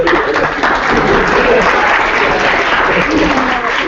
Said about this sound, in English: Round of applause for all of our.